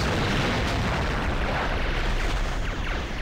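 A polaron torpedo hits a Borg starbase in a space strategy video game, setting off a loud, dense roar of continuous explosions that runs unbroken for about three seconds.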